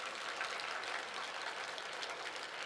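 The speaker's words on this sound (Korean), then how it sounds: "또 한 번 박수, 우리 예수님께 박수." A church congregation applauds during a sermon, a steady, even wash of many hands clapping from a distance with no voices on top.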